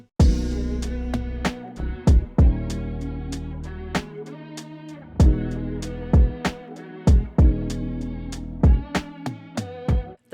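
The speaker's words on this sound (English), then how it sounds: "I grabbed a crash cymbal that I had hitting on the first beat of every 4 bars" Crash cymbal layered into a programmed emotional R&B beat, bright washes striking at regular intervals over steady kick, snare and hi-hat hits, loud with no talking.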